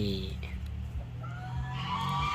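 Bantam chicken clucking in short repeated calls alongside faint higher bird chirps, with someone talking over it nearby.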